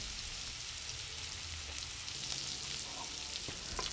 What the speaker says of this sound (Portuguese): Em outra panela, esquente 2 colheres de azeite. Frite um pouco de alho com um pouco de cheiro verde.